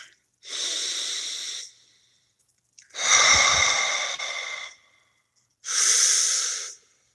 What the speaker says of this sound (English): Just breathe.